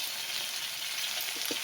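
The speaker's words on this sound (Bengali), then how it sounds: "বেগুন আলু টমেটো ভালো করে ভাজা হয়ে গেছে" Aubergine, potato and tomato fry in a pan with a steady close hiss and fine crackle, a couple of soft stirring clicks near the end.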